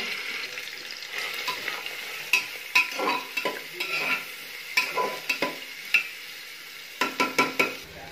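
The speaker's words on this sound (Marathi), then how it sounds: "तेल थोडे गरम झाले की आपण त्यात कांदे टाकणार आहे।" Onions fry in hot oil inside a pressure cooker, a constant crackling sizzle punctuated by a dozen sharp knocks and scrapes of a spoon against the metal pot.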